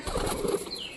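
A fancy Lotan pigeon beats its wings in a single quick, close flurry of soft flapping that lasts about a second.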